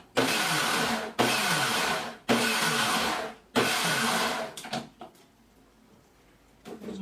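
Blender running on sugar-free, gluten-free, dairy-free cake batter with coffee, loud whirring bursts in four pulses, then stopping into quiet scraping sounds.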